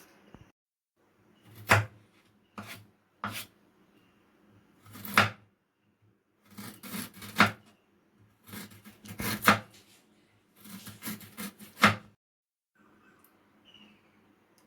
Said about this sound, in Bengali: আদাটা আমি ছাড়িয়ে নিচ্ছি। ছাড়িয়ে কেটে আদা রসুন একসঙ্গে বেটে নেব।